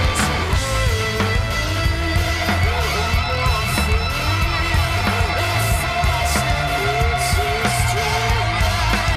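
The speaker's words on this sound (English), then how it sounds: "with the whammy, it gives it that extra kind of artificial dimension to it, that higher resonance frequency" Electric guitar riff played through a whammy pedal, jumping between lower and higher octaves with gliding pitch bends, loud and continuous within a dense driving band mix.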